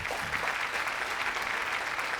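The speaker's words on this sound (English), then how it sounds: "Round of applause for all 4 teams." Audience applause for the teams at a school quiz zonal final in Mumbai, dense steady clapping that fills the whole stretch, moderately loud with no voices over it.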